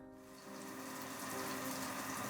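Shower water runs in a steady, even hiss, quiet at first and then fuller and constant, with no voices.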